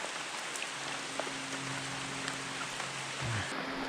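Heavy rain pours down steadily during a tropical storm while fishing for brook trout, a dense close hiss of drops on the surface with no talk.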